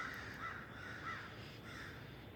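Crows caw repeatedly in a rough, steady series of harsh calls, with no talking and a low, constant background hum underneath.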